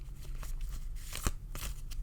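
Tarot cards are shuffled in a quick riffling flurry, close and crisp over a low background hum, lasting only a couple of seconds.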